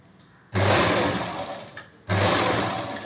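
An electric sewing machine stitches a blouse in two loud, fast bursts of steady motor whir and needle clatter, separated by a short pause, close up with no talk.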